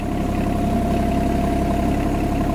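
A Branson 2505H tractor engine runs at a steady idle, a constant low, rumbling drone with no revving, close and continuous throughout.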